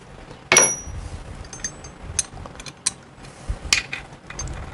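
Bolts being loosened on the primary drive of a 1965 Harley-Davidson Panhead, with a few close ratcheting clicks and metallic taps spaced across a quiet workshop.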